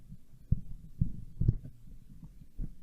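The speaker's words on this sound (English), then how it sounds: "We've actually already made this sub-bass pattern in our synth." A sine-wave sub-bass pattern from a synthesizer plays on its own as a quiet, low thumping pulse, with about five soft, evenly spaced hits that throb like a heartbeat.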